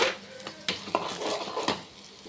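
Tamarind rice (pulihora) is spooned onto a plate, giving a few sharp clinks and soft scrapes of a utensil against the dish, close and fairly quiet.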